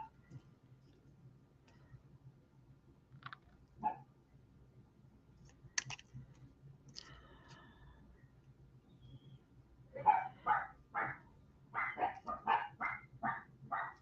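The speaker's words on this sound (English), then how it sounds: "They're barking at the neighbor's kids." Small dogs barking at neighbourhood children outdoors, a quick burst of several sharp, fairly close barks in a rapid rhythm after scattered faint clicks and thumps in a quiet room.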